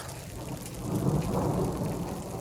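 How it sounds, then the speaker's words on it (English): Hail falls in a dense, steady outdoor patter, a continuous broad rushing clatter with a low rumble underneath, heard from close by. "It's hailing."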